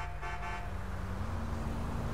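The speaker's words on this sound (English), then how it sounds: "I know I just beeped at him when I was technically in the wrong there" An SUV's car horn gives a short beep over the steady drone of a running engine inside the car, with the honk sitting near the start and the idle continuing afterwards.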